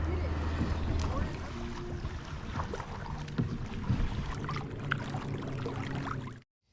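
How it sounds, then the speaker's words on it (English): Kayaks being paddled across Rice Lake in Canada on a roughly five-mile family trip, with steady water swishing and a low hum of wind and boat movement throughout, faint voices now and then, until the sound cuts off. "We are kayaking to Hastings."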